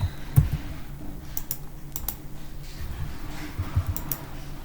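Computer keyboard keys typed in short bursts while entering Enter and Alt shortcuts, producing light plastic clicks and taps, close and fairly quiet, with scattered isolated keystrokes across the stretch.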